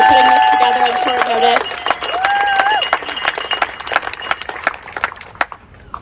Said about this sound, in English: Can we please give a big round of applause to Christian and the Yes to Win team